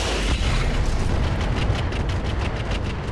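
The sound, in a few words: mech weapons firing and exploding in Roguetech BattleTech video game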